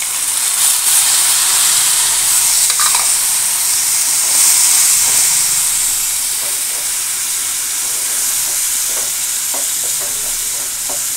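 Spice paste of ground cumin, coriander, turmeric and salt mixed with water hisses and sizzles steadily in a hot pan, a loud continuous close frying hiss with faint stirring scrapes and no talking.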